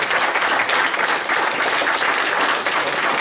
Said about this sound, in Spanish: ¿Por qué no damos un aplauso al Señor en esta noche?